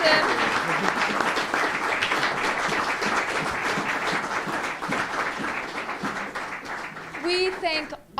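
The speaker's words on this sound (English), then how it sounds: "Can we have one last round of applause for author Derek Baxter in Pursuit of Jefferson?" Audience at an author event for Derek Baxter's book In Pursuit of Jefferson gives a dense, steady round of applause, with a voice emerging briefly near the end.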